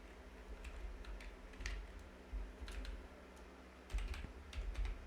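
Quiet keyboard typing while entering a narration into Tally ERP 9 accounting software, with soft, irregular keystrokes and small bursts over a low hum.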